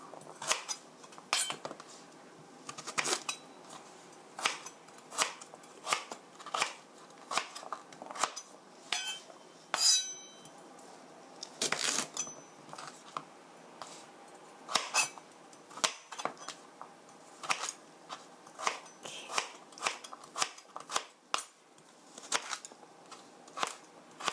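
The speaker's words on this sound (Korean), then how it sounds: "반 자르시고요. 썰기해서" Knife work for beef chop steak: sharp, irregular chopping and slicing taps on a cutting board, repeated steadily, close and clear with no talking, along with some clinking of utensils.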